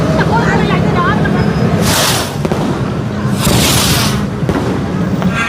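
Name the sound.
fireworks at a Hindu temple festival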